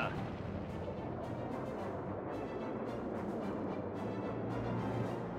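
Artillery guns firing in a World War II real-time strategy game, a run of repeated booming blasts over a dense battle rumble, with faint in-game voices mixed underneath.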